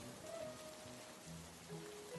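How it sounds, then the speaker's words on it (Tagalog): Heavy rain falls in an animated scene, a steady soft hiss of drops on surfaces, continuous and fairly quiet with a faint tonal hum beneath. "Ang lakas ng ulan."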